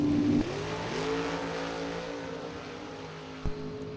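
A 2002 Chevrolet Corvette and another drag racer run down the strip at a Top Sportsman event, a steady loud engine drone with sustained harmonic tones shifting as they pull away, a brief thump near the end, no talk.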